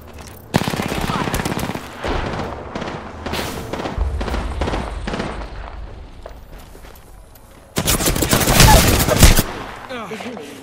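Rapid automatic gunfire in a shooter game, loud close bursts with pauses between them and a final intense volley near the end, mixed with faint footsteps and brief game voice callouts.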